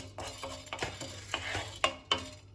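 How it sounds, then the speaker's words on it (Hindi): Chana dal roasting in a pan, dry lentils scraped and stirred with a utensil in irregular strokes, with a few sharper clinks against the metal over a faint background hum. "चने की दाल जो है रोस्ट हो गई है"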